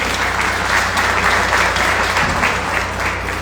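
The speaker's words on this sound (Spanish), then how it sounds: "un aplauso para ellos también" Audience applause at a book presentation event, a steady sustained clapping from a crowd lasting throughout, fairly loud and even with no voices on top.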